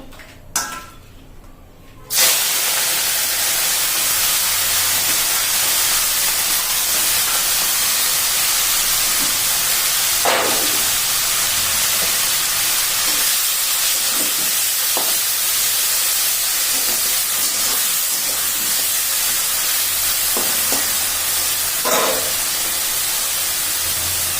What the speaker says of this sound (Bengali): চিংড়ি মাছ আর চিংড়ি মাছটা ভেজে নেবো এবার